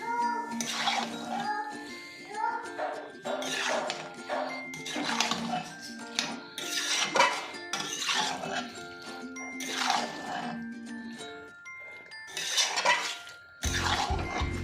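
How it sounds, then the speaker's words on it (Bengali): Beef is stirred and sautéed in a pot after salting, with repeated metallic scraping and clanking of a spoon against the pot in regular bursts, close and fairly loud, a final clatter at the end. "মাংসতে স্বাদ মতো লবণ দিয়ে আবারও খুব ভালো করে নেড়ে চেড়ে একটু কষিয়ে নেবো"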